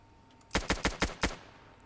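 Five quick gunshots from a G36 rifle crack out in a tight, evenly spaced burst during a State of Anarchy firefight, loud and close, with a quiet pause before them and no talking.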